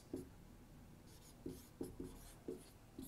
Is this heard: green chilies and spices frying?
no